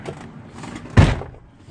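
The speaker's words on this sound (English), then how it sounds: "Close that door, please." A car door being shut by a driving examiner before a driving test: a single dull thud about a second in, over faint background shuffling, with no speech.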